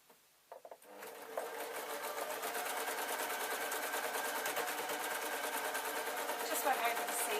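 After a few faint clicks, a sewing machine starts up and stitches a stretch fabric hem on a full circle skater shirt, a rapid, steady whirring chatter close by that keeps running to the end.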